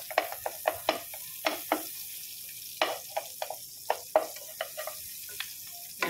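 Stirring in a pan while cooking chicken curry, with sharp scrapes and knocks in an irregular rhythm and a faint sizzle beneath, close and clear.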